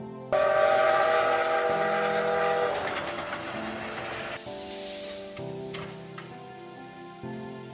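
A train arrives in a survival film scene, with loud rolling rail noise and clattering wagons that gradually fade while a horn or whistle sounds in the middle, with no voices.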